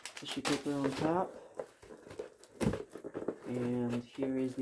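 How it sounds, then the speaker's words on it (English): Tissue paper rustling and crinkling as it is lifted from the box of a vintage new-old-stock NuTone-Scovill S-180-L smoke detector, close and intermittent, mixed in with talking. "Tissue paper on top."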